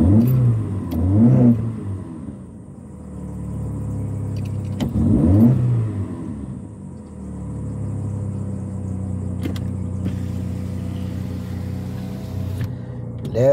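A car fitted with a new resonator revs up twice, its exhaust giving low rumbling bursts with crackles as each rev falls off, then settling into a steady idle drone, close and fairly loud.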